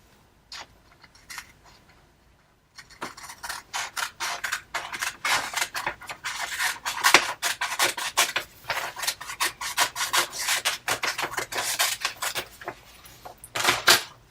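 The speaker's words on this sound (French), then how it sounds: "Et je découpe une bande." Scissors snip a strip from a sheet of paper for a Möbius band, a quick run of sharp crisp cuts up close after a short quiet start, alone without talk.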